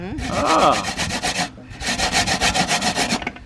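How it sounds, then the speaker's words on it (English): Coconut rubbed hard against a hand grater in a home kitchen, a close, loud rasping scrape in quick repeated strokes across two bursts with a short pause between. "Grate me coconut now."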